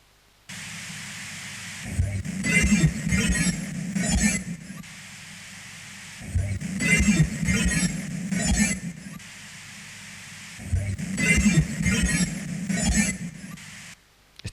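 Shortwave radio white noise, a steady hiss that switches on and runs the whole time, with three longer bursts of louder voice-like sound rising out of the static.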